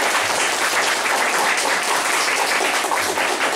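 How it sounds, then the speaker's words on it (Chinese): An audience applauds guest speakers at a talk event, a dense, even wash of many hands clapping, loud and sustained from start to finish. "请大家再给他们热烈的掌声"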